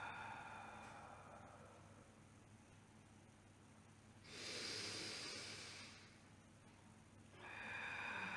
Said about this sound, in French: vous soufflez par votre bouche comme si vous vouliez souffler une bougie d'anniversaire